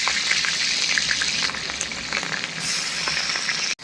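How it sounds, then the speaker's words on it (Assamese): Onion and green chili sizzle in hot oil in a pan, a steady, dense crackle that stays close and loud throughout, with no voices over it. "এতিয়া পিঁয়াজ জলকীয়াটো ভাজি লওঁ।"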